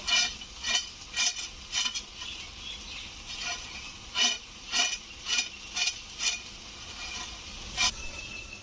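Taro leaves with shrimp cooking down in a pan to dry off their water, giving steady low sizzling broken by a string of sharp stirring and scraping clicks at an uneven rhythm, close and moderately loud, with no talk.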